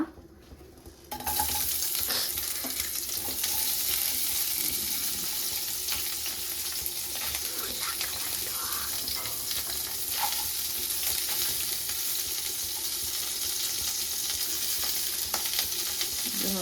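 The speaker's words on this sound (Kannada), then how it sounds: "ಇವಾಗ ಸದ್ಯಕ್ಕೆ ಈರುಳ್ಳಿ ಮೆಣಸಿನ್ಕಾಯಿ ಮತ್ತು ಲೈಕ್ ಇದು ಮತ್ತು ಬೆಳ್ಳುಳ್ಳಿ ಹಾಕ್ಕೊಂಡು ಫ್ರೈ ಮಾಡ್ಕೊಳ್ಳೋಣ" Onion, green chilli and garlic hit a hot pan and burst into a loud, continuous sizzle, broken by occasional stirring scrapes and faint watery crackles, after a quiet second of kitchen background.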